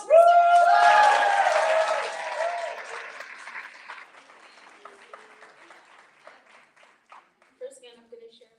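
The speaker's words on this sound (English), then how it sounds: "Round of applause for Sarah" A crowd at a literary magazine launch event applauds Sarah with loud clapping and a few cheering voices at first, then the applause thins and fades while scattered talk follows.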